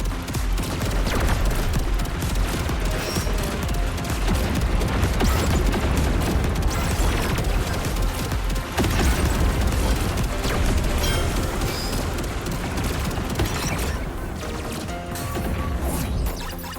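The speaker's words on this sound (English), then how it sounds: "Guess we'll go with missiles." Dense barrage of missiles launching and exploding in the Beat Invaders game, a continuous loud clatter of blasts, bangs and crashes with no pauses, no talking.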